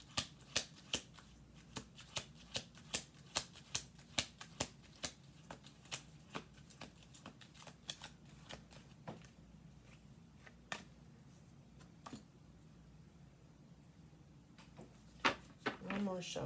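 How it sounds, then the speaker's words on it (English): A deck of cards is shuffled close by in a repeated run of soft, crisp snaps that thin out toward the end, with a voice faintly in the background. "We'll do two more shuffles."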